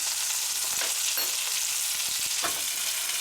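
Fish frying in butter in a pan, a constant loud sizzling hiss with a few faint clinks and stirring taps scattered through.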